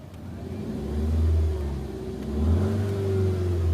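A car engine revs up twice in the open, each rise swelling to a loud, throaty peak and then easing back to idle, with no voices.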